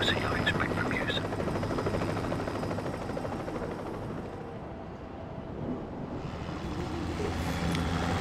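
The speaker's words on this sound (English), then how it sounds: "I'll hitch a ride once the helicopter's airborne." A helicopter's rotor thrum and whine drone continuously in the Batman Begins video game, loud and close, with a low rumble and some wind buffeting underneath.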